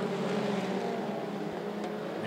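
Mini stock race cars roar around the 411 Motor Speedway oval in a steady, loud engine drone that holds without a break, the pack running bunched together close by.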